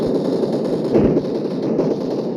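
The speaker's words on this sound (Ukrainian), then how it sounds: "Хтось стріляє." Rapid bursts of distant gunfire crackle in the video game PUBG Mobile over a steady background hum, with no voices.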